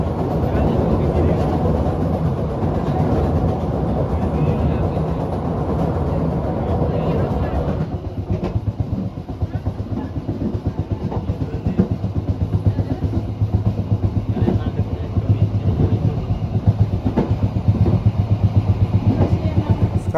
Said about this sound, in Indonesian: sekarang kereta api Bengawan telah tiba di stasiun Kebasen